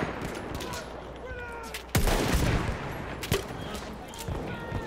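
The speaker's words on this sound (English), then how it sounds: "No, something's shooting at me." Gunfire in the first-person shooter Battlefield 1 aimed at the player, with bursts of close, loud shots and a sharp blast partway through over continuous battle noise.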